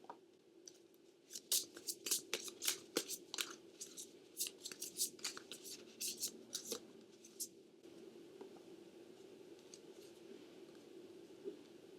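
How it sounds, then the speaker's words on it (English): Oracle cards shuffled by hand, a quick flurry of soft papery riffles and slaps over a few seconds, close and fairly quiet, then settling into faint rustling. "Let me pull an oracle card for you."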